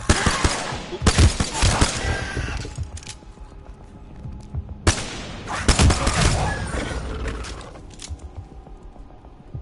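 P2020 pistol fire in the video game Apex Legends comes as two loud clusters of rapid shots, each burst followed by a trailing echo and quieter game noise.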